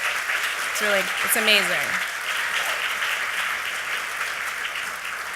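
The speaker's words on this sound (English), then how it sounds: "give a round of applause to Day One, because today is the 15th year" An audience at the Voices Against Violence gala claps in sustained applause that fills the room, while a person speaks briefly over the clapping near the start.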